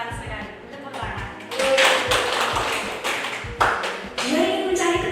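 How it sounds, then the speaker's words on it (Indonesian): A class of students claps together in a classroom, a burst of brisk hand claps that swells and then fades, mixed with chatter and voices talking over it. "Tepuk tangan."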